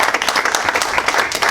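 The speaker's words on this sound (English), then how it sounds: "A round of applause." A group at a fire police training session gives a loud round of applause. Individual hand claps are distinct and fairly close within a brisk, uneven patter.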